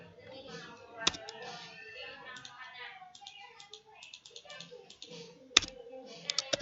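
A ping command typed on a computer keyboard during a networking router lab: quick bursts of close key taps with a couple of sharper, louder clacks, and a voice murmuring in the background.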